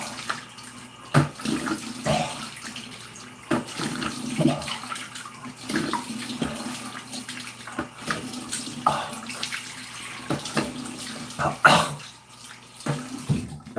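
A tap runs water into a sink while mouthwash is rinsed out, giving a steady, fairly quiet splashing stream with irregular louder splashes and clunks and no talking.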